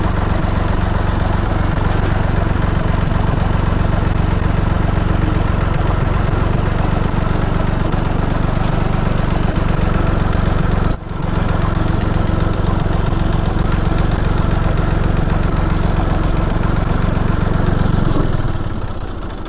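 A Massey Ferguson 135 tractor engine runs loud and steady in low box as it drives out of a shed, a constant close diesel drone with a brief dip near the middle and easing at the end.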